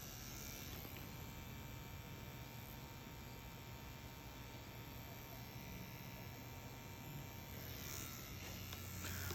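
A Scalpa rotary tattoo machine gives a steady faint electric buzz and hum, close and continuous, with no talk.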